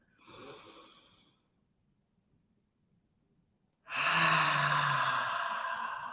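Two deep breaths drawn during a meditation session, a shorter softer airy inhale followed after a pause by a longer, louder, close rushing intake of breath, with no talk.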